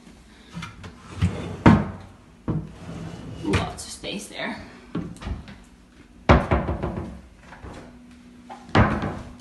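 A large double wardrobe in a student room in Aberdeen, its doors opening and closing with several loud wooden knocks and thumps spaced across the clip, close by, while a person talks in between.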